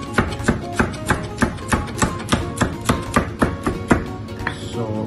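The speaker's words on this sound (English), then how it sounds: "you have to cut the julienne. So you will just shred it like this" A knife shreds coriander stems into fine julienne on a cutting board, a quick, even run of close, crisp chopping knocks, about three per second, continuing without talk.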